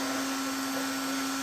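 A heat gun used on an arcade control panel overlay while it is peeled off, giving a constant, fairly loud, even blowing whine with a steady tonal hum throughout and no speech.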